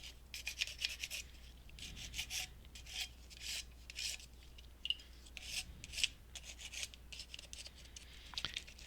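Quick, light abrasive scuffs pass over a polymer clay tea light holder, short rasping strokes in an irregular rhythm, close and faint against a quiet background.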